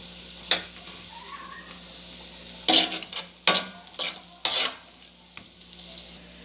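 Lechon kawali and string beans stirred and fried in a pan, with a steady low sizzle broken by several sharp scraping clatters of a utensil against the pan.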